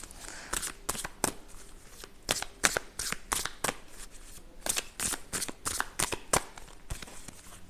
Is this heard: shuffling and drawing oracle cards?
yes